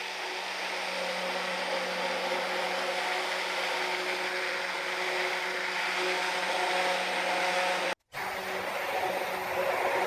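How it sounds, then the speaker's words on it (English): An immersion blender runs on low in soap batter, giving a steady, loud motor whir that holds for about eight seconds, cuts out briefly, then starts again. "Now I'm going to go in with my immersion blender"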